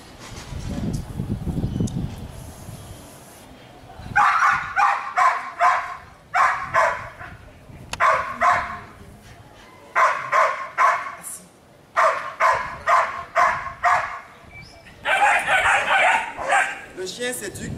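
A dog barks repeatedly in short bursts of two or three, fairly close, with someone talking in the background early on.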